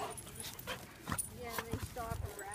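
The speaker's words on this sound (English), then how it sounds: "You're a wild dog, Callie." A dog at a park whimpers and pants in short soft bursts close by, with a person talking over it.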